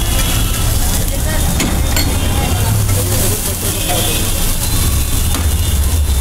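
Dosa filling with vegetables and paneer sizzles steadily in refined oil on a hot griddle, a continuous loud frying hiss with faint clinks throughout.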